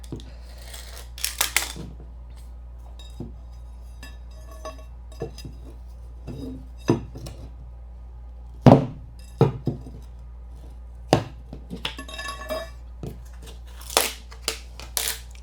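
Old bathroom flooring in a basement being cut to remove a chunk, a string of sharp separate snips and crunches with quiet pauses between them, close and with no voices.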